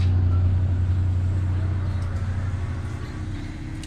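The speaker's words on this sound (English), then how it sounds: "He's taking off here in his little car." A small car pulls away with a steady low engine rumble that gradually fades as it drives off, recorded outdoors near Lake Chapala.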